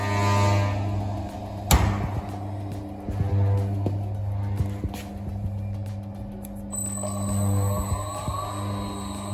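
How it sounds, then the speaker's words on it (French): A pump motor at a brewery during bottling and kegging runs with a steady low hum that swells and fades in slow pulses, with a sharp knock near the start and a high whine joining later; no voices. "ce que je fais, c'est que je vais démarrer mon moteur"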